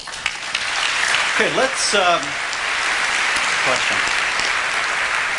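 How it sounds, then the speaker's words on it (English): Audience applauding at a debate on religion between Christopher Hitchens and Tony Blair, a loud, sustained wash of clapping while someone speaks briefly over it. "We like the applauding, so please continue that throughout the debate."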